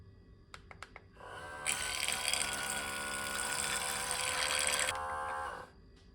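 Portable espresso maker with its water chamber filled with cold water, the pump switched on to purge air: a few sharp clicks, then a steady loud buzzing whir with gurgling water for about four seconds before it stops, close up.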